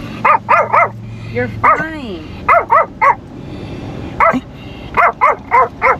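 A small dog barks in sharp, high-pitched bursts, several quick yaps in clusters, close by, with a person speaking briefly between them.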